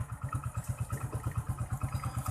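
A Hero Splendor Plus BS4 motorcycle engine runs at idle, a close, steady single-cylinder thump pulsing rapidly and evenly throughout.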